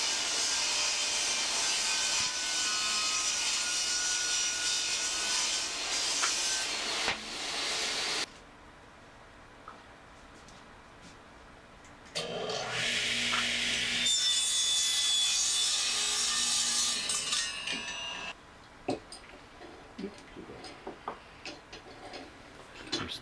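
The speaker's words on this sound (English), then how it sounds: "A lot of the pieces I'm ripping to be about 6 inches for various spacers inside the desk." Plywood being ripped into strips about six inches wide for desk spacers, loud close bursts of saw cutting broken by quieter gaps with light ticks and handling noises between cuts.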